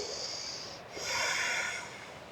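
Deep, slow breathing during a yoga flow class, with a long exhale and then a fuller inhale. The breaths are close and fairly soft, with no talk over them.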